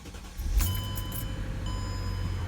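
A Mercedes W211 E-Class starts, a brief crank and catch at close range followed by a settled low idle with a faint steady hum underneath as the Airmatic suspension kicks on, quiet overall and without talk.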